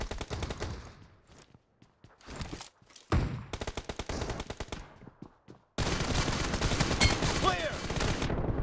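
Video game gunfire in a BGMI team deathmatch on the Hangar map: bursts of rapid automatic shots and single cracks come in clusters with brief gaps, then a sustained dense volley of fire fills the final seconds.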